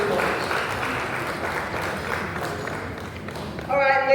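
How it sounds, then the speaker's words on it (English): An audience claps for a youth group at a West African event, a fairly soft, even wash of applause, with a voice briefly heard over it at the end. "Please, a round of applause for them."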